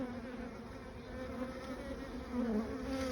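Honey bees buzz steadily around garden hives, a continuous close, moderately loud drone that swells slightly near the end, with no voices.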